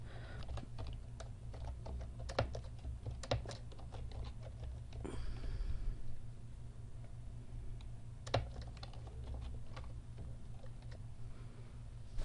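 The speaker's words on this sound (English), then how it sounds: "I'm going to type in the title" Keys clatter on a computer keyboard as a chart title is typed, a few scattered bursts of clicks with a short quiet gap, faint and close over a low steady hum.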